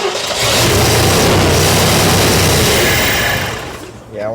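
A 1970 Ford, parked for 22 years, cranks and briefly runs, giving a loud, close, sustained engine roar that fades near the end.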